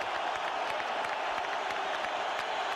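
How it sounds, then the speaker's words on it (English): A dense arena crowd at a heavyweight boxing bout at the Staples Center, Los Angeles, roars in a continuous loud wash of booing and jeering after a controversial finish, with no clear individual voices. "Listen to the boos."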